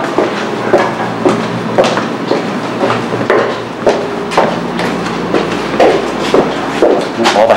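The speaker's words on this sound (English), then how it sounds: "Watch the tram car, please." A tram car rolls past on its rails with a steady run of clicking, clacking and thumping knocks over a continuous rumble, loud and close, with no talk.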